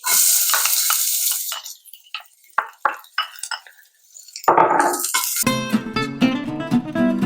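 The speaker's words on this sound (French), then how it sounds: "je vais faire suer mes oignons avec un peu d'huile d'olive" Onions sweat in olive oil in a hot saucepan, with scattered utensil clinks and scrapes, then a brief sizzling burst, before music takes over.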